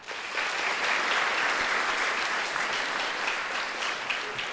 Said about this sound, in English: So a round of applause for Aubrey.